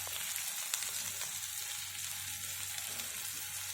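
Onions and tomato frying in a pan for methi dal, a steady close hiss of sizzling oil running throughout with faint crackles and no voices.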